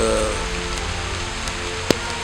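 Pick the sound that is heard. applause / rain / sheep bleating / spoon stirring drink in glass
rain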